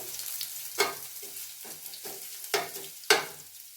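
Garlic fries in oil in a pan, a soft steady sizzle broken by several sharp spatula scrapes and taps against the pan, heard close and fairly quiet with no talking.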